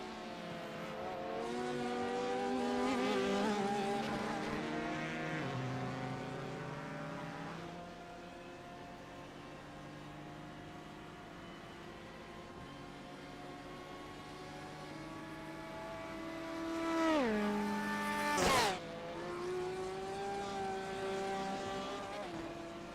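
Race car engines in a Le Mans 24-hour endurance racing video game, a high-revving engine note that climbs and drops through gear changes, with other cars passing close by and a sharp burst near the end.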